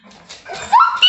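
A dog whines during a game of hide-and-seek at home: a short, rising, high-pitched whimper, then a thinner squeal just after, close by and brief over quiet indoor room sound.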